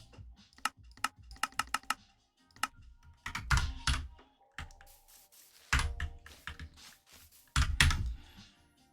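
Close computer keyboard typing comes in uneven bursts: a few quick isolated key taps, then heavier clusters of clacking and thumping keystrokes separated by brief pauses.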